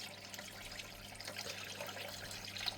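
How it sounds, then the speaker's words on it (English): Water runs steadily through a small micro sluice that is washing old paydirt for gold and garnets. It makes a soft, continuous trickle and splash that stays close and fairly quiet, with small rises in the flow. "Allow the micro sluice to do its thing."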